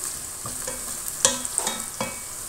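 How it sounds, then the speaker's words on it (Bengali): Onion, dried chili and bay leaf fry in hot oil with a steady soft sizzle, broken by a few sharp stirring scrapes and clicks against the pan, close and without talk. "এখানে দিয়েছি তেল, দিয়েছি শুকনো মরিচ, তেজপাতা, ফোড়ন ও পেঁয়াজ। হালকা একটু ভেজে নিলাম।"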